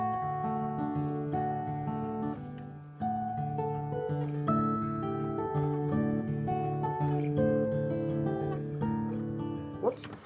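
Fingerpicked acoustic guitar notes from a song rolling in a quick, steady pattern, with a brief break near three seconds and a bright pluck at the end.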